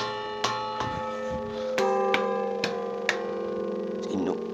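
Several church bells in the bell tower at Ovedasso, Udine, Italy ring together in a full peal, overlapping strikes with long sustained hum, steady and moderately loud.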